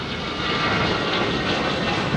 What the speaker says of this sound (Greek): Είναι το τελευταίο αεροσκάφος που αναχωρεί από το αεροδρόμιο Ηρακλείου Νίκος Καζαντζάκης